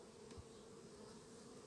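Honeybees from a rapidly growing swarm colony buzz around their hive, a steady dense hum that holds at an even level throughout, close by, with no voices.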